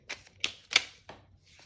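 A small tarot deck shuffled by hand, a series of soft riffling card snaps coming in four or five separate bursts, close and quiet.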